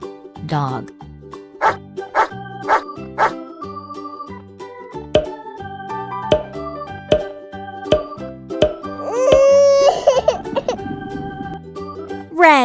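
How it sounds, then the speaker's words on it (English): A cartoon dog gives a couple of short barks over upbeat children's music with plopping percussion. One bark comes early and a longer one near the end. "Dog."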